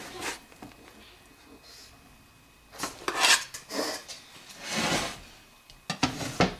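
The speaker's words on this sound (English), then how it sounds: "as soon as I can get it broke loose from the pan" A homemade pizza is scraped loose from a cast iron skillet in rough, rasping bursts of metal on the pan, separated by quiet pauses.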